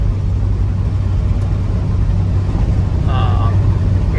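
A 1975 International 200 pickup truck's engine drones steadily on its first drive after sitting in a field, a constant low rumble with road noise throughout and brief faint sounds near the end.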